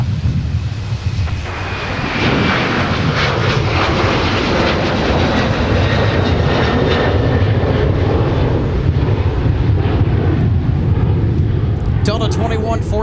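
Delta jet airliner taking off from a runway at Minneapolis–St. Paul airport, a loud sustained engine roar that holds steady for the whole stretch, with brief radio-like chatter near the end.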